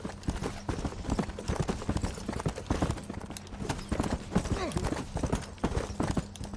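Horse hooves clip-clop in a steady trotting rhythm in the video game Red Dead Redemption, close and clear throughout, with occasional faint talk underneath.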